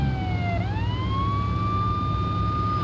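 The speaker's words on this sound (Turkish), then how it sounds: "Sirenlerimi kapatayım." A Renault Clio police car siren in a car simulator video game rises and falls in a continuous, loud wail over a low engine drone.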